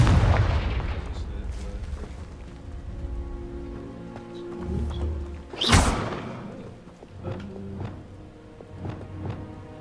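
Fiery explosion spells cast in Hogwarts Legacy, a sharp booming blast mid-clip amid game ambience and a few lighter thuds, with a faint voice in the background.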